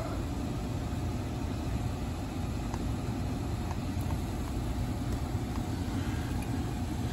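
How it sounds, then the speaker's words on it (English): An HVAC air handler blower fan runs on an air conditioning system with a frozen coil and wiring faults. A steady, even, low whooshing hum continues unchanged throughout. "So the blower came on with R and G touched together."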